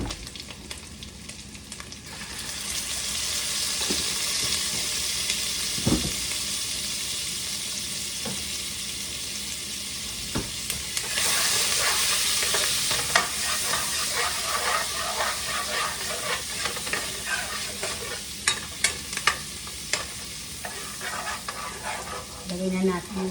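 Garlic sizzles steadily in a frying pan while sardine soup is being prepared, a dense close hiss with scraping stirs and a louder burst of frying partway through; no one talks.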